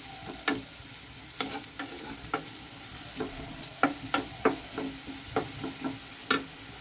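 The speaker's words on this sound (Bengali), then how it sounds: "এই অবস্থাতে আমি এখানে দিয়ে দিচ্ছি 4টে এলাচ আর 2 টুকরো দারচিনি, যাতে এই আলু ভাজার সময়" Potatoes fry in oil with cardamom pods and cinnamon pieces while a spoon stirs them, giving a steady close sizzle broken by repeated sharp scraping clicks against the pan.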